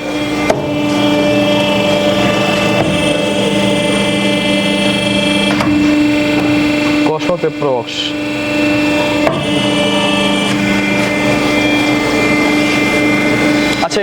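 An advanced paper plate making machine with aluminium dies runs steadily and loudly throughout, a dense mechanical drone with sustained tonal hum and repeated clanking, plus a brief louder rattling burst in the middle.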